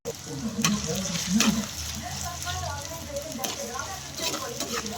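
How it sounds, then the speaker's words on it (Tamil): Ginger and garlic sautéing in hot oil with fennel seeds and onion for a soya gravy: a loud, continuous close sizzle with rhythmic scraping strokes of a spoon stirring in the pan. "இஞ்சி பூண்டு போட்டு நல்லா கொஞ்சம் வதக்கணும்"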